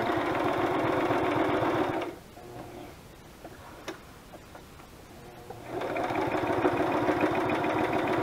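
A home sewing machine with off-white thread stitches a fabric pocket onto a pink rose journal, whirring in two steady, close bursts with a quiet pause between them.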